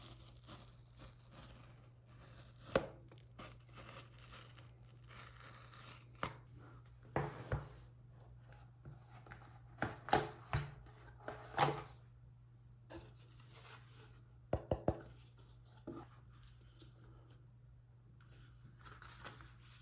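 Tear tabs on a Samsung Z Flip 5 box in recycled packaging get pulled, giving faint, scattered ripping and scratching bursts against a quiet room.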